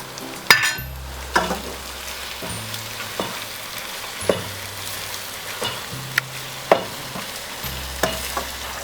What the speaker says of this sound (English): Then once I'm done with it, I add my Ewedu and still stir it.